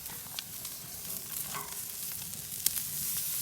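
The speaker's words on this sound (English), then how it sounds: "our steaks have been on about 5 or 6 minutes. Time to give them a flip." Ribeye steaks sizzle on a grate over a campfire, a steady close crackling hiss with small pops and spits throughout, no voices.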